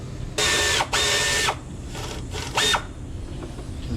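Ratchet wrench with a 10 mm socket loosening battery bolts on a 2014–2019 Ford Escape, three short bursts of rapid close clicking with quieter fumbling and faint clicks between them.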